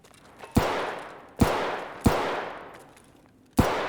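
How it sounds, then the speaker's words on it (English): Four sharp gunshots ring out at irregular intervals outside a storage area in the video game Escape From Tarkov, each crack trailing off in a long reverberant decay. "I'm hearing shots outside of this storage area"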